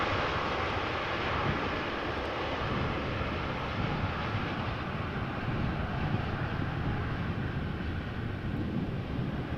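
KLM Boeing 777-300ER airliner landing at Amsterdam Schiphol after a flight from Curaçao: a loud, steady broadband jet engine roar that holds at the same level throughout, with no voices.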